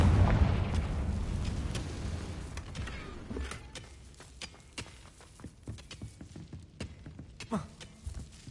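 A Confringo spell in Hogwarts Legacy sets off a heavy, rumbling blast that fades slowly, then gives way to scattered crackling pops and small bursts of debris.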